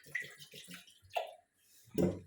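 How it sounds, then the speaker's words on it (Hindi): Water pours into a pressure cooker holding black-eyed pea (chavli) curry, in a short series of gurgling glugs followed by a fuller splash at the end, close and fairly quiet. "ये देखिए, मैंने पानी ऐड कर दिया है।"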